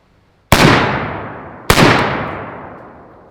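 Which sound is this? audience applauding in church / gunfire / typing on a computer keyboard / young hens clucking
gunfire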